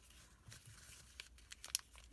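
Paper card stock is folded over by hand, giving faint crinkling and soft rustling with a few sharper crisp creases near the end, all close and quiet.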